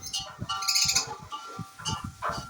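Sparrows chirp in quick bursts on a rooftop terrace, several calls overlapping close by, with short pauses between flurries.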